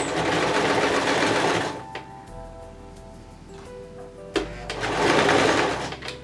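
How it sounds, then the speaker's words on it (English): A sewing machine stitches across sparkly red doll dress fabric with a fast, steady whirring chatter that pauses briefly in the middle, with a few light clicks, then resumes; close and fairly loud. "put my presser foot down and sew across"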